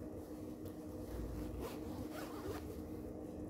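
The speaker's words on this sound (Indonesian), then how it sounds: "Harus resleting" A dress zipper is drawn closed in a brief run of rasping strokes, close and clear over a steady low background hum, during a dress fitting.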